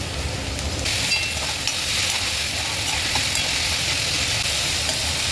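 Onions sauté with salt in hot oil for a peanut chutney, giving a loud, continuous sizzle and hiss with steady stirring scrapes close by and no talking.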